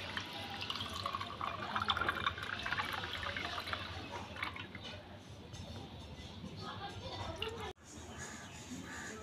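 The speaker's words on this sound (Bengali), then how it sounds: "ছেঁকনির সাহায্যে ছেঁকে দিয়ে দেব।" Lemon water being strained through a sieve, pouring and dripping in a steady, close, continuous trickle that breaks off briefly near the end.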